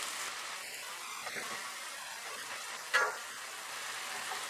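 Dried shutki fish being stirred into spice masala in a pan, a faint, steady sizzle of frying with soft scraping of the stirring and one brief clink near the end.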